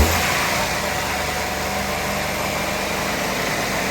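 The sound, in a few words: Maruti Celerio 2016 VXI automatic engine revving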